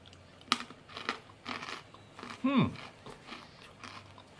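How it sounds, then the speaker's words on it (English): Coated Japanese peanuts crunch in a few quiet, sharp bites close to the mouth, separated by pauses, and a brief vocal sound follows. "Nice crunchiness, not too hard."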